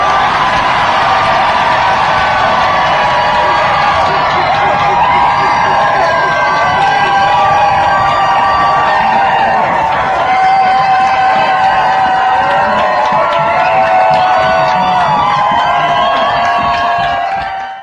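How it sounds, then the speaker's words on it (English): A large crowd roars, cheers and applauds for a contestant's name called by a compere, a dense, loud wall of clapping, whoops and shouts that holds steady throughout. "this is the response from the crowd when the compere shouts the name of the girl who preceded me"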